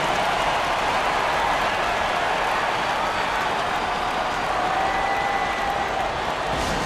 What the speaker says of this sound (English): Give it up for your Pacemates dance team.